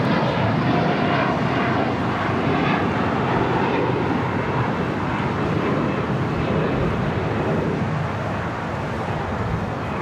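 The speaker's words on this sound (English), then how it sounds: "Lufthansa Queen continuing heading into one of the gates there on the southwest side." Lufthansa 'Queen' jumbo jet taxiing toward a gate on the southwest side of LAX, a continuous, fairly loud engine rumble and whine that stays even and close, easing slightly near the end.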